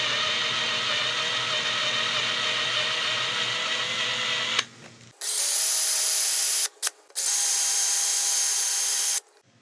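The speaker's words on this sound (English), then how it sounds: "trying to steer the drill bit as centered as possible" A power drill whines steadily at high speed, drilling out a stuck steering lock set screw on a Kawasaki Z1 motorcycle, cuts out briefly, then runs again in two bursts with short gaps.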